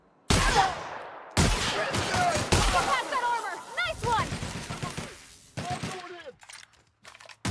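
Gunfire in The Outer Worlds: several sharp, loud shots in separate bursts with crackling ricochet-like tails, a speaking voice mixed in between the volleys.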